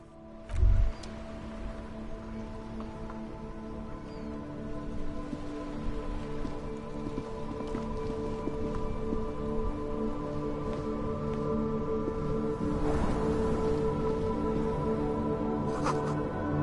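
Steady rain patters on surfaces in the Disco Elysium game, a soft continuous hiss with scattered drips, one brief thump near the start and a constant low hum beneath, no speech.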